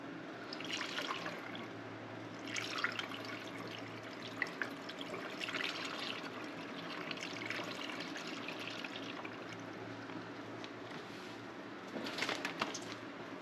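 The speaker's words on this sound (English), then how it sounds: "And we got coolant flowing out." Coolant flowing out of a water pump bleed port while a thermostat is installed, a soft trickling and dribbling of liquid with a few faint drips, quiet and continuous against low background noise.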